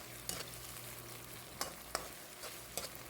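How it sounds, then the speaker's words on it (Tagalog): Chicken breast frying in a pan for chow mein gives a steady close hiss and sizzle, broken by a few sharp stirring scrapes. "Niluluto ko muna ng gusto yung ating chicken breast."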